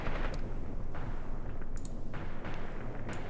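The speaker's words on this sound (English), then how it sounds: "let's drop another bunch of artillery, like so" Artillery barrage in the Graviteam Tactics war game, with dense rumbling high-explosive shell blasts rolling continuously and a few sharper distant bursts standing out over the steady low roar.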